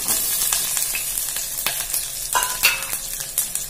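Urad dal, chana dal, green chilli, onion and curry leaves sauté in hot oil for tomato kuzhambu, giving a dense crackling sizzle broken by frequent spoon clicks and stirring scrapes, close and unvoiced.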